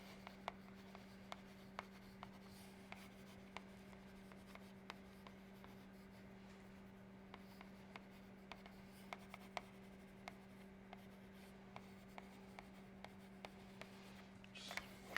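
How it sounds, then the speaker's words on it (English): A marker or chalk scratches and taps faintly on a board during a university lecture on shortest paths in graphs and linear programming. The soft strokes repeat steadily over a constant low room hum, with no talking. "which I'm going to write down"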